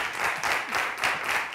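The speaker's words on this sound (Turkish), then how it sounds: "Alkışlarla." Studio audience at a Turkish daytime TV talk show applauds rhythmically as a guest is welcomed, brisk even clapping in pulses, close and lively.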